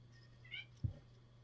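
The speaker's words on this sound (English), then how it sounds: "Why are you meowing?" A house cat gives a single short meow indoors, fairly faint and close, followed by a soft thump, with a low steady hum underneath and no talking.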